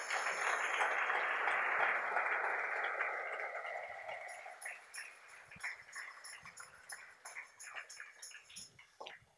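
A church congregation applauds with a dense wash of clapping that slowly thins into scattered claps and a few sharp taps.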